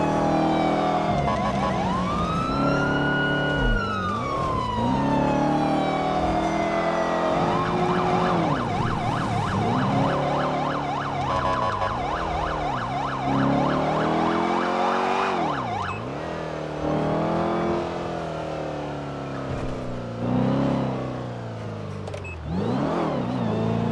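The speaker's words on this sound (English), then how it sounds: "let's just go ahead and listen to the siren and the engine real quick." Police car siren wailing and yelping over a revving engine in GTA 5, loud and continuous, sweeping up and down through several siren patterns as the car accelerates.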